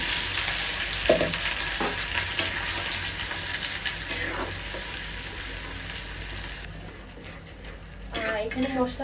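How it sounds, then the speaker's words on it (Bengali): Spices with onion, dried chilli, cinnamon, cardamom, bay leaf and cloves frying for chicken kosha, a dense continuous sizzle with occasional scraping stirs and clinks of a spatula, close and loud, then quieter near the end. "এখানে মশলা কষানো হচ্ছে।"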